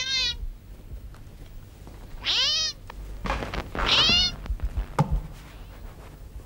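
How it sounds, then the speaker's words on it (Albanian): Cat meowing in a theatre stage performance, several drawn-out, rising and falling meows spaced a second or so apart, close and fairly loud with some faint stage noise between them. "Berikri, kemi mace këtu?"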